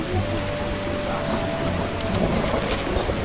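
A thunderstorm with pouring rain in The Witcher, around the medieval city of Wyzima: a continuous loud hiss of rain with low rolling rumbles of thunder beneath, steady throughout with no voices.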